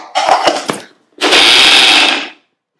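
Electric mixer grinder blending grated coconut, ginger and other ingredients with oil for a Malabar-style filling; a short stuttering pulse of whirring gives way to about a second of loud, steady motor grind that then stops.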